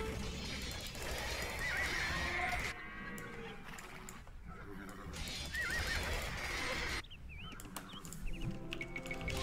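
Horses in the Age of Empires 2 strategy game whinny and neigh repeatedly over a busy bed of clopping hooves and battle clamor, loud and close, with several high squealing calls through the scene.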